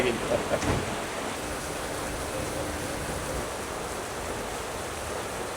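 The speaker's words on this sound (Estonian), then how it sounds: "Vihma on tavaliselt väga raske nagu video peale saada, aga siin nagu keegi viskaks ämbriga." Heavy rain pours down in Ho Chi Minh City, a dense, steady roar of falling water with a brief louder rush at the start and a faint voice briefly audible.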